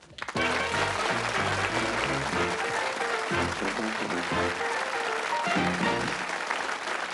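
A studio audience at the Bullseye game show bursts into loud, sustained applause welcoming the contestants, steady clapping that continues for several seconds with a few cheers mixed in.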